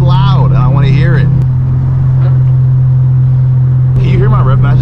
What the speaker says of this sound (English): Can you hear my rev matches from back there?